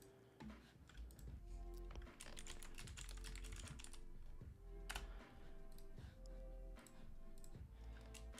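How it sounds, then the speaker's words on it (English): Someone types on a computer keyboard with steady, rapid clicking keystrokes close by, nearly continuous with only brief pauses and no talk over them. "Silent keyboard."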